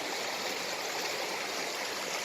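A mountain stream runs beside a valley campsite with a constant, even rush of water, close and unbroken, with no voices.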